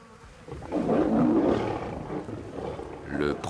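Lions fighting on the African savanna, with deep, rumbling roars and snarls rising and swelling over a few seconds, close and loud, while a narrator talks over them.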